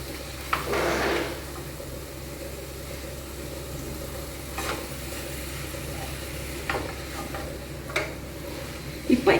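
Boiled cauliflower sautéing with garlic in a pan, a steady low sizzle with occasional stirring scrapes and clinks of a utensil against the pan, moderately quiet and close.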